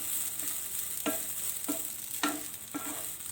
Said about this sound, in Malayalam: ഈ തേങ്ങയൊന്ന് റോസ്റ്റായി കിട്ടണം